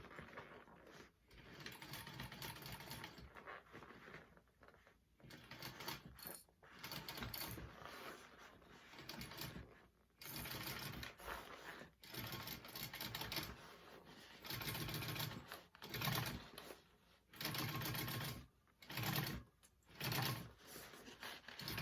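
A sewing machine stitching a Denver Mini Backpack, running in short stop-start bursts of whirring, rhythmic needle clatter separated by brief pauses as the fabric is repositioned around curves and zipper pockets, close and without talk.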